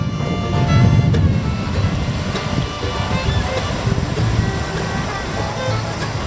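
Sea waves wash and rumble nearby on the coast at Pak Phanang, Nakhon Si Thammarat, under gusty wind buffeting the microphone, a steady roaring wash.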